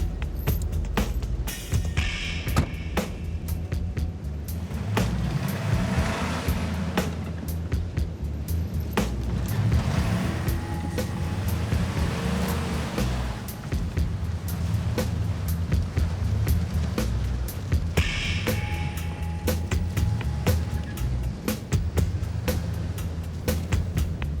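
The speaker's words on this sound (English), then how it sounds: "They quickly attach a tow rope to his truck and pull it onto even ground." A truck tows another vehicle with a tow rope over uneven ground, a steady low engine rumble running throughout, punctuated by repeated knocks, clanks and rattles from the vehicles.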